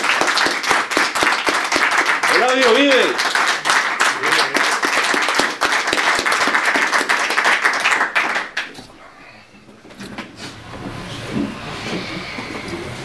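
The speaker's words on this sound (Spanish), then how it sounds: "Un aplauso para todos" Crowd clapping and applauding at a public railway event, loud and dense for about eight seconds, with a brief shout, then fading to quieter murmuring and distant voices.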